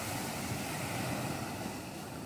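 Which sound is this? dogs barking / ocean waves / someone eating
ocean waves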